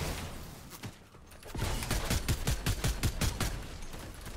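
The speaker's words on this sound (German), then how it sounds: "Schießt jetzt auf mich?" Gunfire in the video game Fortnite, a rapid burst of repeated shots after a brief lull, sharp evenly spaced cracks firing for several seconds at moderate loudness with no talk.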